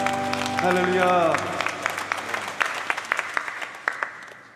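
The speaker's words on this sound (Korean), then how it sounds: "우리 주님께 영광의 박수 올리겠습니다" Applause of glory from a Korean church congregation at a Sunday morning communion service rises as sustained keyboard chords fade, leaving scattered, tapering claps that thin out toward the end.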